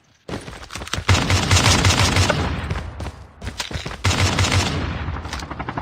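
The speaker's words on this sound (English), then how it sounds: "It's like a sniper battle that's taking place" Video game gunfire in a sniper battle during a pro scrim match, with loud, rapid bursts of shots in two long volleys separated by a brief lull, close and dense.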